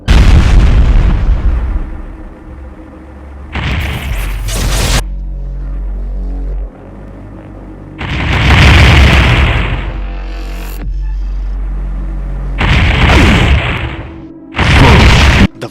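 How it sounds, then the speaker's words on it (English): A Cyberdemon's volley of straight rockets in a DooM mod sets off heavy booming explosions in separate bursts. Each blast is loud and rumbling, with quieter gaps of low hum between them. "For the volley of straight rockets,"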